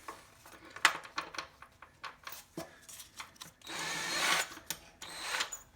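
A power tool spins an acorn nut off a front engine mount bolt on a 1947 GMC truck, giving close, uneven bursts of whirring and metallic rattling with clicks and knocks between them and a longer buzzing run near the end.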